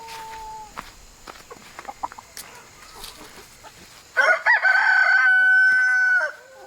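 Chickens in a garden: scattered soft clucks and rustling footsteps at first, then a rooster lets out one loud, drawn-out crow close by that holds for about two seconds before cutting off.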